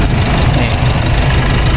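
Isuzu 1.9 DDI diesel engine from 2019 idling steadily, a loud, even close rumble with a faint knocking texture that holds throughout, while someone talks over it.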